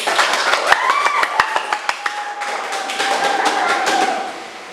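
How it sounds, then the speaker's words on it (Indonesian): A classroom gives a short burst of applause with sharp, separate hand claps, close by and moderately loud, followed by scattered claps and a brief whistle-like tone. "Silakan beri tepuk tangannya."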